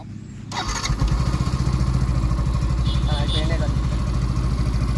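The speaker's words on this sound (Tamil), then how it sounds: "இந்த பைக்கோட எக்ஸாஸ்ட் நோட்டை நீங்கள் வந்து கேளுங்க" A Yamaha FZS V3 motorcycle engine starts and settles into a steady, throbbing exhaust idle, loud and close, with a faint voice briefly in the background.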